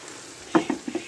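Masala prawns sizzle and fry in a pan, with a few short bursts of sizzling and stirring over a quiet background.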